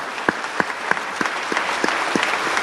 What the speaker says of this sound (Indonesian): Tepuk tangan untuk istri saya dulu, Bapak Ibu